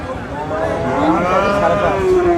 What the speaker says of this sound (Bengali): এটা ফ্রিজিয়ান ফ্রিজিয়ান জাতের গরু